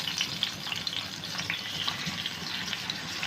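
Chicken laid onto a hot tawa over green chillies for Lahori street-style tawa chicken, giving a close, steady crackling sizzle with small pops throughout and no voices.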